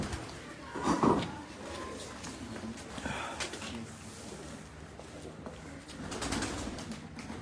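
Farangi breed pigeons coo on a rooftop, their low soft calls swelling in a couple of moderate bursts over steady outdoor background noise.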